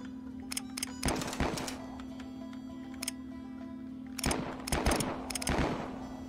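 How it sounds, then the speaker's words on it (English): Western shootout in the Westerado video game, with sharp distinct gunshots fired in scattered single cracks and quick clusters over a steady low hum, fairly loud and close, with no talking. "we're off to a shootout in Clintville"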